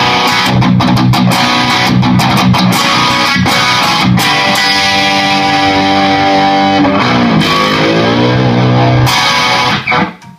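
Electric guitar with a Bigsby vibrato played through a Protone Bulb Overdrive Deluxe distortion pedal with the attack switch on and drive at noon, loud saturated chords and bends sustaining continuously before cutting off at the end.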